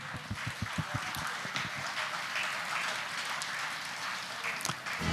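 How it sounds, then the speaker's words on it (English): An audience at a Catholic wedding reception in Bangalore claps, a few loud hand claps up close at the start over a soft, steady wash of applause from the hall. "Can I hear it for Hilda and Frederick, along with Ashwin, in your applause"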